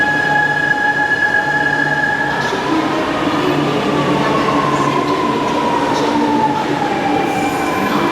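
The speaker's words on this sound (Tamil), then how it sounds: "ட்ரெயின் வந்துடுச்சு காய்ஸ்." A Chennai metro train rolls into Ekkattuthangal station, a loud steady rumble with whining motor tones and a faint wheel squeal that shifts pitch as it slows, filling the platform without voices.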